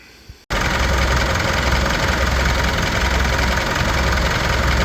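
A Mitsubishi Pajero Sport engine idles right up close, starting abruptly after a brief quiet moment and then running as a loud, steady rumble with even mechanical clatter.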